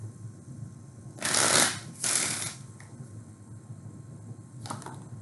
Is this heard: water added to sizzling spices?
no